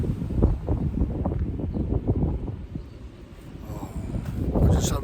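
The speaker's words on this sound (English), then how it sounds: "Oh, the wind's picking up." Wind gusting across an open outdoor spot beside a fishing swim, a broad steady rumble buffeting the microphone, easing slightly mid-way then building again toward the end, with no voices over it.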